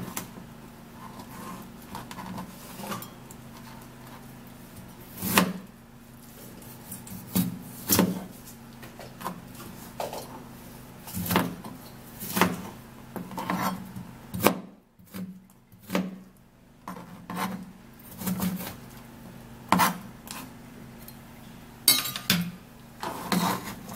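A knife cuts an ingredient on a cutting board while an early morning skin drink is prepared, giving a series of sharp, close chops at irregular intervals with brief pauses between strokes and no talking.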